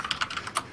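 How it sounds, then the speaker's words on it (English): Fast, light clicks of typing on a computer keyboard, keys struck in a quick uneven rhythm, close and alone without speech. "I'm typing it this now."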